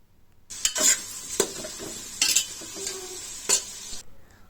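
Onions frying in a pan for village-style biryani, a steady close sizzle broken by several sharp stirring scrapes and clinks of a spoon against the metal, with no talk.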